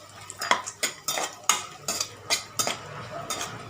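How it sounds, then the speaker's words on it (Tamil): Pistachios are stirred while roasting in a pan for a sweet, producing a rhythmic run of close metallic scrapes and clinks of a spoon against the pan, with faint sizzling underneath. "அடுத்தது இந்த பிஸ்தா கொஞ்சம் வறுத்து எடுத்துக்கலாம்."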